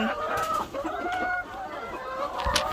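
Hens cluck in a backyard egg-laying coop during egg collection, with overlapping close and farther clucks and a brief crow-like call near the end, faint background noise underneath.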